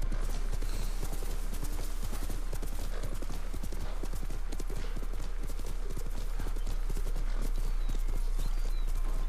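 A horse gallops in the video game Ghost of Tsushima, with rapid, continuous hoof clip-clops at close range over a steady ambient background.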